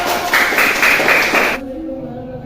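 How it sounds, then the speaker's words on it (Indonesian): A second-grade classroom breaks into a short, patterned clapping chant for a student group, several rhythmic bursts of claps that stop sharply after about a second and a half, leaving a quiet room. "tepuk tangan untuk kelompoknya Reno"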